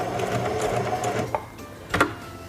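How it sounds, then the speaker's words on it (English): Singer 4411 heavy duty sewing machine stitching backwards in reverse, a fast mechanical whir of needle strokes that stops, followed by a couple of sharp clicks and knocks, close and clear with no talk. "Press and hold the reverse lever and sew backwards a few stitches"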